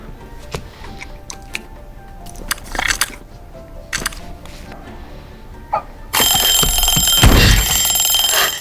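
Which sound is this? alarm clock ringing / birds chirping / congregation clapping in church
alarm clock ringing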